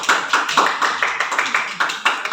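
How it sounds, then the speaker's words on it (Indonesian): Classroom applause for a group of students after their presentation, a dense burst of many hands clapping at close range, steady and sustained throughout. "kasih aplaus kepada mereka"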